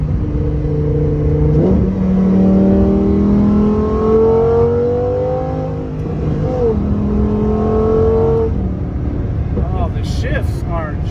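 A 2019 Lamborghini Huracan Performante engine revs loud and close through rising gear pulls with quick shifts and a crackle of pops on lift-off, continuous for about eleven seconds.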